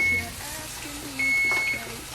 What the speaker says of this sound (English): Timer off.